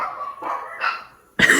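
A dog that has slipped out through an open door at a girls' night by a bonfire gives a short burst of a bark or two, close and loud after a quieter stretch.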